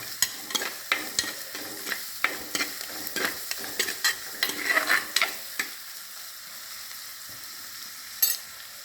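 Tomatoes and green chillies frying in a pan for masti curry, with a soft sizzle under a rhythmic series of sharp spatula scrapes and taps against the pan, close by, stirring stopping for the last few seconds.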